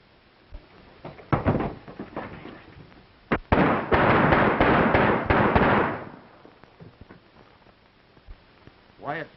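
Men fire guns at a man in a 1930s John Wayne western, a rapid volley of shots crackling close and loud, with scattered single reports before and after.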